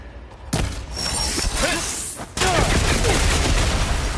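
Loud gunfire and shattering impacts in Horizon Forbidden West as couplings holding up a stem are shot, heavy bursts followed by crashing, breaking debris with a mechanical clatter, close and continuous.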